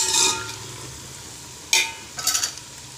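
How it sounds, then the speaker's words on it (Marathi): Onions stirred and sautéed in a pan while cooking chicken tahari, giving a soft sizzle with a few short scraping stirs, moderately close and with no talking. "आता कांदा छान लाल परतू द्यायचा"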